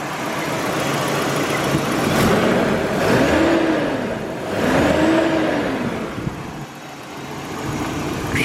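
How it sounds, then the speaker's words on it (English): A Nissan 240 engine runs unevenly with a misfire, its steady drone rising and falling in two brief revs before settling back, heard close and alone without talk. "So you can see, just kind of misfiring."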